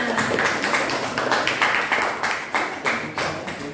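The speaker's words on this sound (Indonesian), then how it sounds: "Tepuk tangan." Classroom applause from students after a group presentation, a few hands clapping in uneven, rhythmic bursts close by, fairly loud and continuous.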